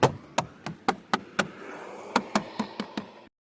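Plastic trim clips on a Nissan Altima door panel snapping into place one after another, about a dozen sharp close knocks and pops in an uneven rhythm, with nobody speaking.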